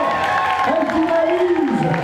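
Applause from a crowd at a Japan Party 2023 cosplay contest in France, a dense steady patter of clapping under a sustained voice that keeps talking throughout.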